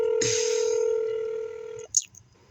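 Electronic telephone keypad tones from a police department phone line, a steady tone with a brief burst near the end as an extension is entered, no talking.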